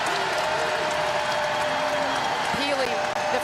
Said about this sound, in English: Crowd is up.